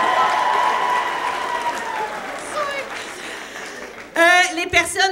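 Applause for a new model at a school fashion show in a hall, a steady wash of clapping that fades under an announcer's voice, then a burst of sound near the end.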